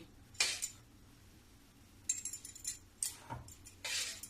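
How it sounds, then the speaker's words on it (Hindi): Faint, scattered clinks of a spoon against a bowl as sweet-sour tamarind chutney is transferred into it, about four short metallic taps in a quiet kitchen. "अब इसको मैं एक कटोरा में रखूंगी।"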